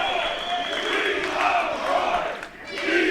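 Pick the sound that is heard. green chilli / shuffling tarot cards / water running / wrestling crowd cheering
wrestling crowd cheering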